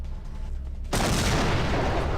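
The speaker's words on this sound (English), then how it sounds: "Random equipment explosions." A sudden loud blast in the video game System Shock 2 hits after a quiet moment, followed by a sustained roaring rumble of debris and noise.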